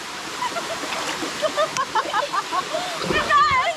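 Water pours steadily at a waterfall where people are bathing, a constant rushing wash with splashes, while voices chatter and call out over it.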